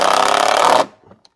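A power drill whirs steadily while driving a screw into finger-jointed pine boards, one continuous close burst that stops abruptly and leaves a faint clatter.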